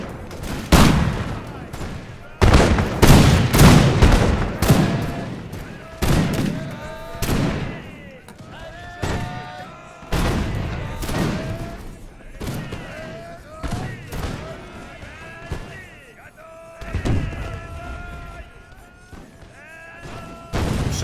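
Musket volleys crack out in the Napoleonic-era Russian campaign of Imperial Splendour, a strategy battle game, with loud ragged bursts of massed gunfire repeating every few seconds, interspersed with scattered single shots, distant booms and battlefield voices.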